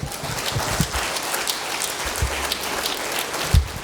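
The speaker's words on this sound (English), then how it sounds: "Can we clap like we mean it?" A conference plenary audience claps continuously, a dense, loud crackle of many hands with a few sharper, heavier claps standing out.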